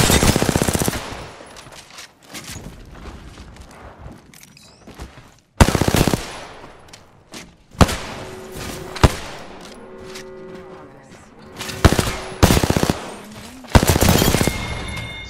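Automatic gunfire in a first-person shooter video game with recoil turned off, several loud sustained bursts separated by short pauses, close and dominant.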